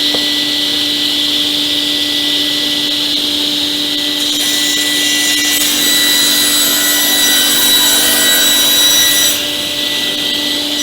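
A woodworking power saw, a Lurem C300, runs steadily with a loud, high whine, its pitch shifting slightly as it cuts for several seconds.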